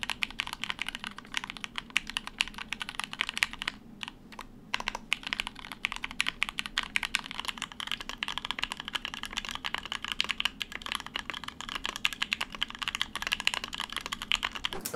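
Rapid, steady typing on a custom-built mechanical keyboard, close and clear. The keystrokes clack continuously for the whole stretch, with only a short pause, and nobody speaks.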